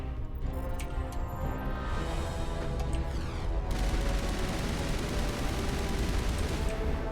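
Rapid automatic gunfire from mounted guns shooting at a Geth dropship in the video game Mass Effect Legendary Edition, a dense continuous barrage over droning battle noise, loud and sustained, with no talk.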